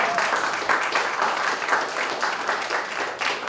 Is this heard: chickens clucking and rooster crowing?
no